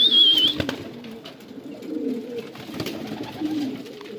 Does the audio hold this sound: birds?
yes